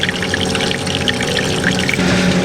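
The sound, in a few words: water running on a boat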